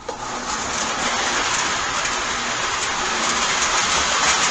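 An F3 model locomotive pulls a train along the track with a steady, fairly loud rolling rumble and whir, continuous and unbroken, with no talking.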